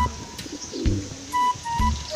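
Young racing pigeons on a training flight call and coo in short, scattered bursts, with a few soft chirps over faint outdoor background noise and no talking.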